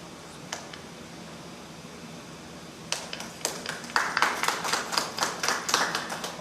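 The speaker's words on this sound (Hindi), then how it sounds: "हम ताली बजाकर उनका स्वागत करेंगे।" Congregation at a Sunday praise and worship church service clapping to welcome the worship team: a near-silent room with a stray clap or two, then a swelling round of applause from the crowd that builds over the last few seconds.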